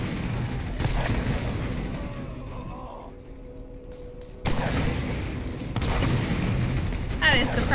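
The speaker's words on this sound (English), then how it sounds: "You're getting a rocket to the face!" Rocket blast in Borderlands: a sudden loud booming explosion erupts after a quieter stretch, followed by further heavy bursts and rumbling gunfire amid game combat.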